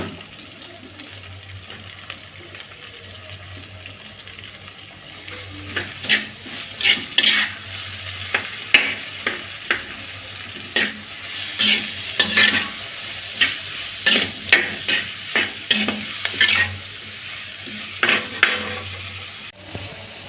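Small onions and tomato sautéing in sunflower oil, a soft sizzle under frequent clattering scrapes and knocks of a spoon stirring the pan, busier through the middle and later stretch.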